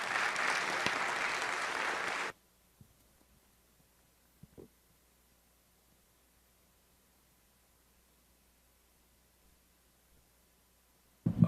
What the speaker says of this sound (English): Please, one more round of applause for Beth.